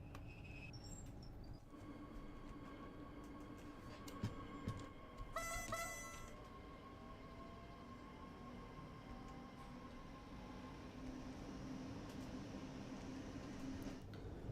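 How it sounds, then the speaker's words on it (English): An S-Bahn electric passenger train runs steadily in Train Sim World 4 on the Vorarlberg line, with a continuous hum and faint tonal whine plus a brief chime-like tone mid-run, no talking. "this train sounds a lot like the Talon 2"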